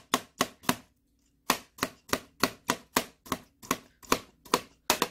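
A knife chopping food on a cutting board while preparing a packed lunch, sharp close taps in a fast even run, a brief pause, then more steady chops, with no talking.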